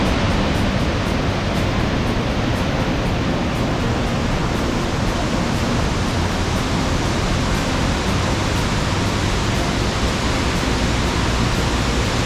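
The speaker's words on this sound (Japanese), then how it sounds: "これが華厳の滝です。" Kegon Falls in Nikko, Japan, a roughly 100-metre plunge waterfall, roaring as a loud, dense, unbroken rush of falling water that stays constant with no voices.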